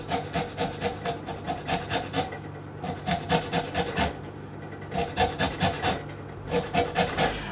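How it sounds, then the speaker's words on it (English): Unwaxed lemon rubbed against a grater to take off the zest: rapid rhythmic rasping strokes in steady bursts with short pauses, close and clear, no talking. "I'm just going to grate the zest off"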